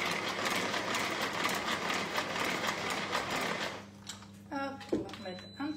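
A whisk or electric mixer beats egg whites with sugar for coconut rock cookies, a dense steady whirring churn that stops near the end, leaving brief clinks and a short spoken word.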